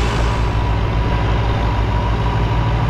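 Several tractors, including an Eicher 551, labour together up a ramp, their diesel engines droning loudly in a continuous low rumble with a faint regular throb and no voices.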